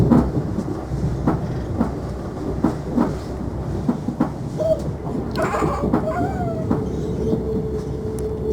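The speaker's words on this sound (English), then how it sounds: "Another Elizabeth line train." An Elizabeth line train passes in London with a steady rumbling roll and rhythmic clicking of wheels over rail joints, fairly loud and continuous, with brief squealing tones midway.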